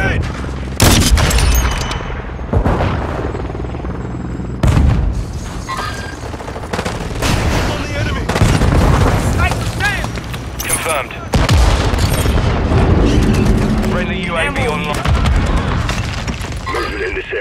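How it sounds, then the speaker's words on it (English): A grenade blast and bursts of gunfire from Call of Duty Modern Warfare 2, loud and dense, with repeated booms and rattling shots layered under radio chatter and shouted callouts. "Throwing grenade!"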